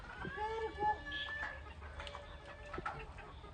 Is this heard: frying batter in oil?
no